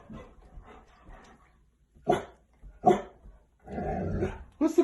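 A puppy gives several short, sharp barks spaced apart, with low growling in between, close and fairly loud against an otherwise quiet background.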